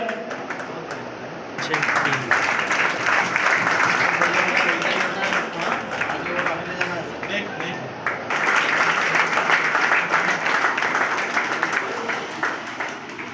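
An audience at a community ceremony claps in two bursts of dense applause, the first from about two seconds and the second after a brief dip, with a voice speaking over and between them.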